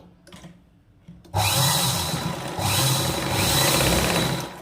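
A sewing machine starts up and stitches a drawstring casing for pants, running in a loud, steady whirring burr for a few seconds after brief quiet handling.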